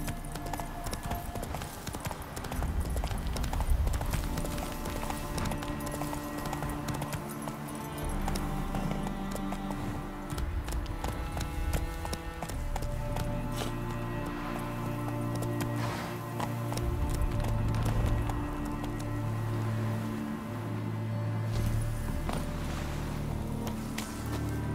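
Hooves of Roach, the horse in The Witcher 3: Wild Hunt, clop in a steady galloping rhythm, loud and continuous, over game music and ambient sound.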